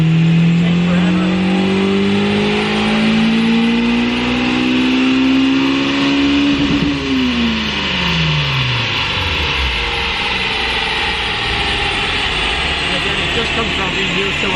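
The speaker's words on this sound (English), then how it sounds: "you can have a conversation while the car is going through the RPM" A Honda S2000 with a cheap aftermarket header pulls a long, slow rev climb on a dyno, its tone rising steadily and loudly before the engine drops sharply back down and fades.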